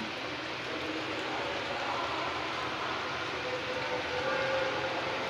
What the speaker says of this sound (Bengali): এটা ফুটছে